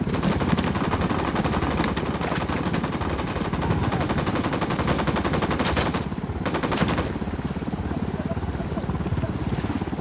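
Rapid, dense automatic gunfire in the video game Ghost Recon Wildlands, sustained bursts rattling almost nonstop for ten seconds, loud and close with a helicopter rumble mixed underneath.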